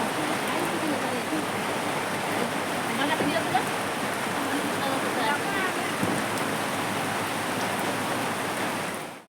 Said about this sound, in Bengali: আমাদের টিফিন করতে করতে বৃষ্টি চলে এলো